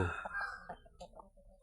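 Chickens calling in the morning at a Thai temple, Wat Pong Chai in Chae Hom, Lampang: a loud squawk at the start, then a few short clucks and crowing notes close by, with no talk.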